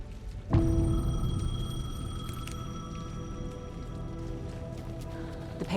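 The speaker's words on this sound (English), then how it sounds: "The payphone was ringing." A payphone in the video game Alan Wake 2 rings with steady electronic tones that sustain over a low, murky game ambience, starting abruptly and continuing alone for several seconds.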